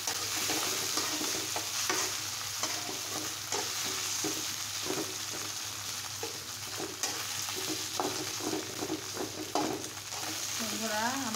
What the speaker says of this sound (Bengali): আমি এখন এটাকে সুন্দর করে লাল, একদম লাল লাল করে মাংস ভাজার মতো করে ভেজে নেব